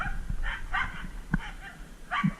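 Dogs bark and yip a few times at moderate distance outdoors near an electric fence under repair, short scattered barks with small whimpers between them.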